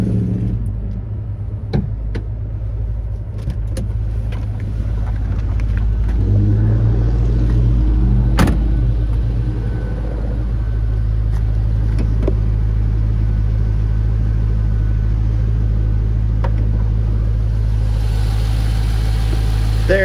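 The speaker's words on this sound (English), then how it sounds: "There is your 400 horsepower LS2 V8 engine." A 2006 Pontiac GTO's 400 hp LS2 V8 with a cold air intake and a 6-speed manual runs close by with a deep steady idle rumble. Occasional clicks and a mild rev swell mid-way lead into a sustained, even drone.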